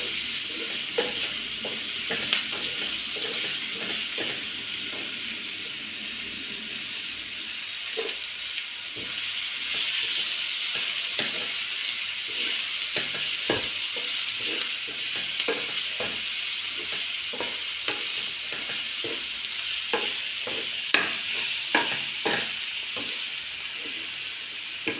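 Egg bread toast ingredients, including a small tomato half, sauté in a pan with a continuous sizzle and hiss, punctuated throughout by frequent sharp spatula scrapes and stirs, close and moderately loud with no voices.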